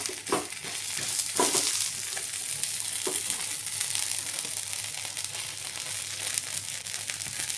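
Thalipeeth, a flatbread of barley flour, fries in oil on a hot griddle with a steady close sizzle throughout, broken by a few soft scraping touches, and no one talks.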